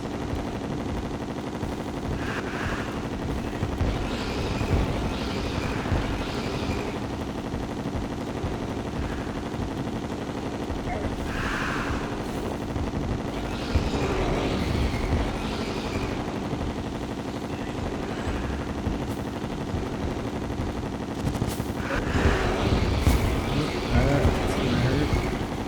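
Rapid, steady gunfire-like bursts of homing bullets during a Terraria boss fight against the Moon Lord, dense and continuous under game music and effects.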